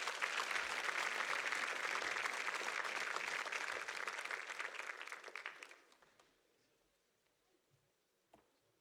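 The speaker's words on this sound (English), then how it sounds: "You can give them a round of applause as they enter back to the stage." Audience applause at a congressional runoff debate in a church as candidates return to the stage; loud sustained clapping for about six seconds, then fading quickly to a quiet room.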